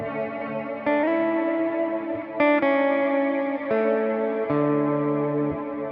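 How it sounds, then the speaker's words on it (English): Electric guitar chords ring through a Catalinbread Softfocus reverb pedal with the mod control turned up, each strum blooming into a long, shimmering, modulated wash that sustains and overlaps the next. "If you want the long reverb, you have to have that mod up."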